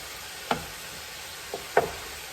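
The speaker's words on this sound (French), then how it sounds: "Je vais juste brasser un petit peu pour que ça se mélange dans ma viande." A utensil stirs meat frying in a pan, giving a few faint taps and scrapes over a soft, steady sizzle. There is no talking.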